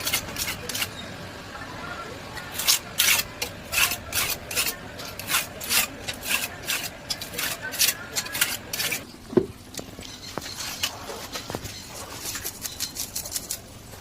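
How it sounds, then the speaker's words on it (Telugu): Knife being sharpened on a stone before cleaning a mullet fish, with repeated rhythmic scraping strokes in quick bursts, close and fairly crisp, pausing briefly partway through before resuming. "దానికోసం కత్తి నూరుతున్నాను అనమాట"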